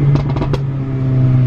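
A Camaro ZL1 with 650 horsepower idles with a strong low exhaust drone. In the first half-second, several sharp pops and crackles burst out of the exhaust, and then the steady rumble carries on alone.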